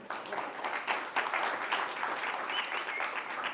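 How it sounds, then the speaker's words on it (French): An audience applauds at a French SEO talk, welcoming the speaker Kevin Richard, with dense, steady clapping that fills the hall at an even level throughout, no voices standing out. "qu'on peut applaudir"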